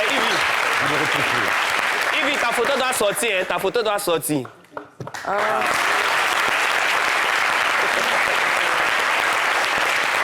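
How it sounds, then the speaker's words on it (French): Applause from a talk-show studio audience, broad and steady through most of the stretch, briefly dropping away in the middle before swelling back; someone speaks over the first part. "Applaudissez encore"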